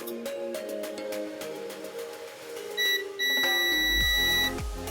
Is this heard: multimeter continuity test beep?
yes